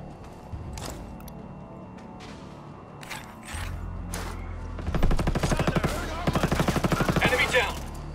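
Gunfire in the tactical shooter Ghost Recon Breakpoint: a few scattered shots and background rumble, then a loud, rapid automatic stream of cracks for several seconds near the end.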